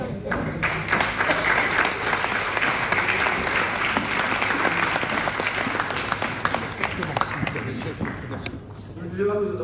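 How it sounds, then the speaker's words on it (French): Conference audience at the Cercle National des Armées applauding the mayor, dense sustained clapping for several seconds that thins out toward the end, with some voices underneath. "On peut applaudir monsieur le maire."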